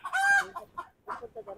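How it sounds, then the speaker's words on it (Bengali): Chickens on a poultry farm cluck in short, close bursts, one loud drawn-out call followed by several quicker clucks with brief pauses between them, with no talking. "এই পাশে এই যে মুরগি আমাকে দেখে অনেক ইয়ে করতেছে"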